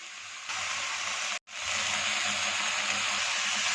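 Water poured into sizzling masala in a frying pan while cooking chicken filling for paratha, giving a steady broadband hiss and sizzle with a brief dropout midway, then continuing evenly, no talk.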